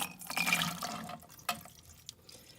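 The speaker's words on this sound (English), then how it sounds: "So here are my almonds that I soaked. These are just going to get rinsed." Soaked almonds being rinsed under running water, a short trickle and splash with a few scattered drips, fairly quiet and close.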